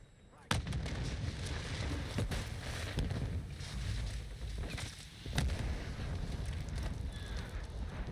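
Semtex grenade blasts in a Call of Duty match on PC: a sudden loud explosion is followed by sustained rumbling battle noise, then a second sharp blast a few seconds later, with no talking.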